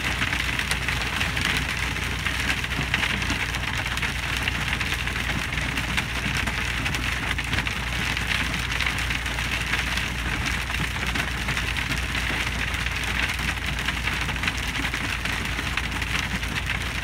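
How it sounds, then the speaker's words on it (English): Heavy hail pelts down onto a road, a dense, unbroken hiss and patter that holds steady throughout at moderate loudness, with no talking. "There's so much hail on the road."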